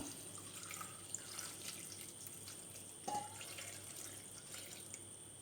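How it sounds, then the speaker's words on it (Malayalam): Water is poured into a pressure cooker holding beetroot and spices, making a soft, continuous trickle with faint splashes and drips. The sound is quiet and close, with no talking. "ഇനി നമുക്ക് വെള്ളം കൂടി ചേർത്ത് കൊടുക്കാം."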